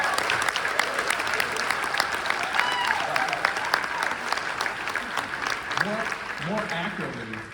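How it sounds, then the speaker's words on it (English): Audience applause at an award ceremony, sustained and even throughout, with scattered voices and a few cheers rising in the second half over the clapping. "Please applaud."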